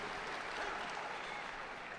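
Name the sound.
judo tournament crowd applauding and cheering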